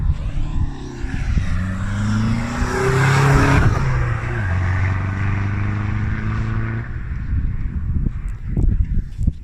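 A car engine with a loud, deep screamer-pipe exhaust revs up and holds, then drops back to a rough burbling idle with pops near the end.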